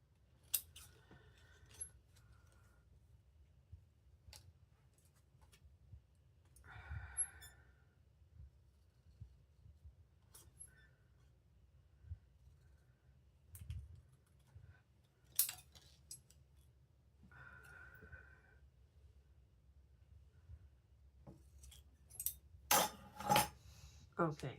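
Scissors snip paper for an art journal, with a few short, crisp cuts spaced apart in a quiet room and faint clicks and handling noises between them.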